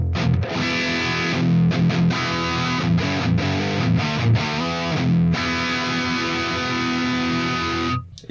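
Distorted electric guitar played through a Soldano SLO-30 amp, its cabinet close-miked with a Shure 57 near the speaker, chugging riffs and sustained chords loud and continuous, cutting off at the end.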